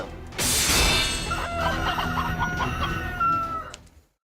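Chickens clucking and a rooster crowing in the video game Fate/Grand Order, a loud burst at the start followed by sustained crowing and clucking that fades out near the end.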